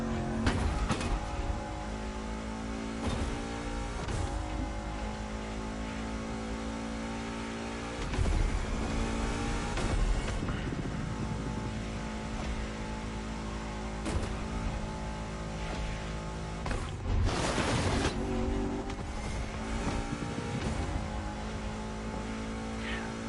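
A car driven in The Crew Motorfest racing game, its engine revving steadily and rising and falling with gear changes and bursts of acceleration, loud and continuous throughout.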